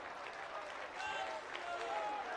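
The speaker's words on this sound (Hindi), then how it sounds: "ताली बजाओगे वो मेरी ताकत है" Audience clapping fills a religious darbar gathering in Nehru Nagar, Bhopal, a steady, distant wash of applause that swells slightly midway, with a voice faintly audible over it.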